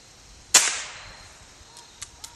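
A single sharp crack from a Crosman Ratcatcher PCP air rifle conversion, loud and close, decays over half a second, followed by a few faint small clicks.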